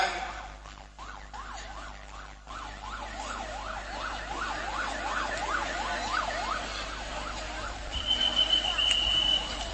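An ambulance siren wails in a steady rising-and-falling pattern, growing louder as it approaches amid background noise and distant traffic.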